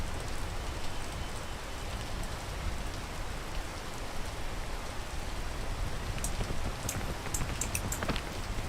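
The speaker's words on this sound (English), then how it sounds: "Let's wait for the let's wait for the rain." Steady, dense video-game rain hisses continuously, with brief sharper drop-like ticks near the end, moderately loud and without voices.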